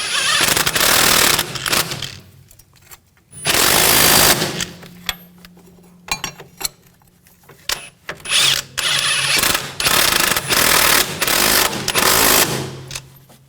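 Impact wrench or power tool tightening the front strut mount nuts on a 2000-2006 BMW X5, heard as several loud, close bursts of rapid hammering separated by short pauses.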